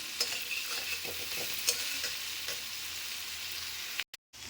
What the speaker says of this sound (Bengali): আদা বাটাটা দিয়ে ভালো করে নেড়ে নেব, আর ততক্ষণ এটা একটু ভাজবো